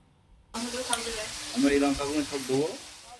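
Fish sizzles and crackles in hot oil, a steady frying hiss that starts abruptly, with a voice talking over it.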